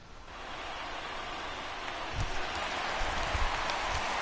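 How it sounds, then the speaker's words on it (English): Steady rain falls over a baseball stadium during a Washington Nationals game, a continuous soft hiss with a few low rumbles and thumps near the end, fairly faint and without voices. "There is rain in the area."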